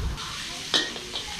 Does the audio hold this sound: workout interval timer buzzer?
no